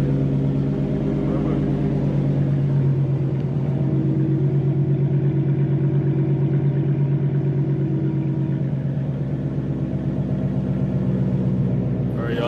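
A Chrysler 300 car engine running at idle, a steady low rumbling hum with a faint rhythmic pulse, heard close and continuous with slight variations in pitch.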